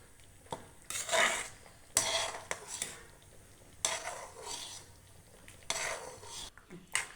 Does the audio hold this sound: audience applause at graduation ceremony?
no